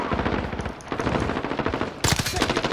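Automatic gunfire in Call of Duty: Modern Warfare, rapid machine-gun bursts of loud, closely spaced shots, pausing briefly and then resuming sharper and nearer.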